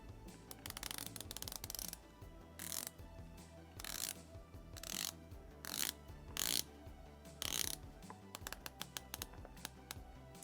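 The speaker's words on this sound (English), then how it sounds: "Let's listen to the bezel action." The rotating bezel of a quartz skin diver watch clicking: quiet, crisp ratcheting clicks in short runs and bursts, close up, with no voices.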